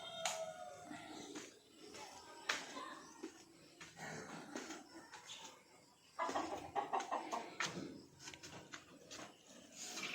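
Farm chickens clucking with a rooster crowing, several close calls and squawks coming in bursts, loudest around the middle and end.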